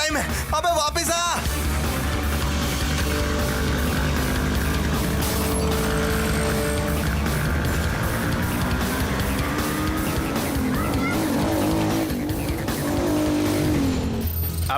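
A stolen car tears away with squealing, skidding tyres and a hard-revving engine, loud and close throughout, with voices shouting over the continuous screech and roar.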